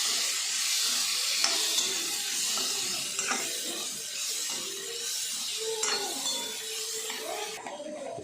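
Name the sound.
soaked cabbage being sautéed in a pan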